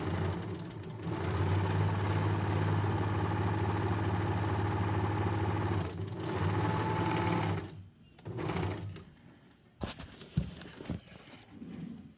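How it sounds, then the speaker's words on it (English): A serger runs in long continuous bursts while sewing the seams of a Burda 6990 dress bodice, a fast rhythmic whirring that stops around eight seconds, followed by brief handling clicks and short restarts. "Now I am going to serge the seams and attach it to my bodice top."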